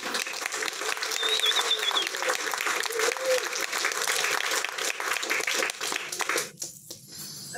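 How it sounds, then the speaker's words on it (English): Wedding guests applaud with dense, steady clapping for about six seconds before it thins out and fades near the end. "Round of applause for Gavin"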